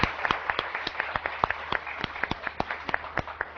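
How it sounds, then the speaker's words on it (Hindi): A small group clapping for a team on a morning TV show, the individual claps sharp and distinct in a quick, slightly uneven rhythm, moderately close with no voices over it. "प्लीज मेरी पूरी टीम के लिए बहुत सारी तालियां दी"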